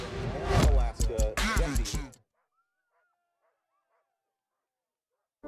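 Sled dogs at the Iditarod 2018 official start in Alaska, a loud burst of excited barking, yipping and whimpering mixed with crowd noise for about two seconds, then near silence.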